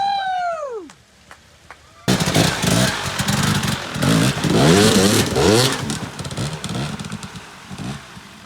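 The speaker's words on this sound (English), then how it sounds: "I'm going to push down on the foot peg for traction as I give it a little blip of throttle and a pop of the clutch" Dirt bike on rocky terrain, a quick throttle blip and clutch pop that bursts into loud, rising engine revving and rough rattling over the rocks, preceded by a brief high whistle-like tone.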